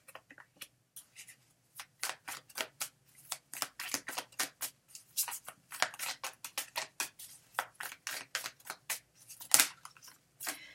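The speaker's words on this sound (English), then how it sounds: "So what I'm doing is I'm shuffling till one card falls out" Cards being shuffled up close in quick crisp riffles and flicks, coming in irregular bursts with short pauses, no talking.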